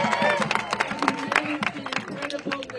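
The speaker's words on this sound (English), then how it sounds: "Big round of applause for Bob" A crowd applauds for Bob at a No Kings protest march, a short, dense burst of clapping with some cheering, close and lively, with voices mixed in.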